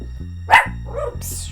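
A dog barks indoors in a room, two or three sharp close barks between stretches of background music.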